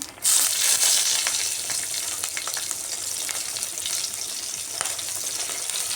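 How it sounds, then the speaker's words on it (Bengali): Nigella seeds and green chillies hitting hot mustard oil, a sudden loud burst of sizzling that settles into a steady, close crackling fry with light spoon stirring, no voices. "ফোড়নে দিয়ে দিচ্ছি কালো জিরে, আর দিচ্ছি কাঁচা লঙ্কা"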